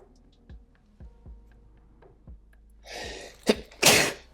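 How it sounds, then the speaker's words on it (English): A single loud sneeze erupts near the end, a short intake followed by a sharp burst, after faint rhythmic ticking and light tapping from drawing at a desk. "Oh, I'm gonna sneeze"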